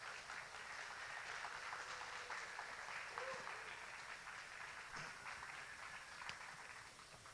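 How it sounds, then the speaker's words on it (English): Quiet, continuous clapping from the audience at a film festival awards event as filmmakers come up for a Q&A, faint and steady throughout. "Everybody give them a round of applause as they come up here"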